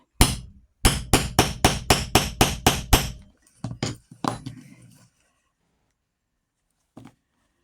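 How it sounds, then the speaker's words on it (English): A metal hammer strikes a metal tool in a quick run of about eight sharp, ringing blows while making a wallet, then a few scattered hits and a last tap after a pause. "metal hammer on a metal tool,"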